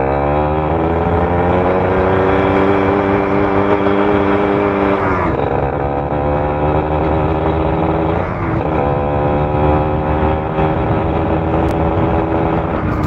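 A Force motorcycle with a tuned carburetor revs loudly and close up as it accelerates on a test ride, its engine note climbing and then dropping at each gear change.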